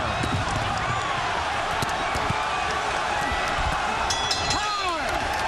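A boxing arena crowd roars steadily between rounds ahead of the final round of a hard-fought bout, a dense, constant wash of cheering with a few sharper shouts and thuds near the end.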